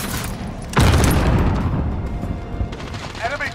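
A frag grenade detonates in Warzone, a loud sudden boom that rolls into a long rumbling tail under game noise, with a faint voice near the end.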